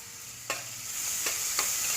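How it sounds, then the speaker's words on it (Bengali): Bottle gourd peels fry in hot oil with nigella seeds, salt and turmeric, giving a constant close sizzle broken by three quick scraping stirs of a spatula across the pan. "কিছুক্ষণ নাড়াচাড়া করলাম"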